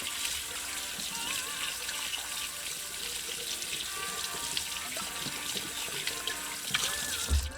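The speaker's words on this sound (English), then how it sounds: "Then you're going to take some water" Tap water runs steadily into a sink as a cleaned, headless trout is rinsed, a continuous close hiss and splash with slight shifts in flow and a brief knock near the end.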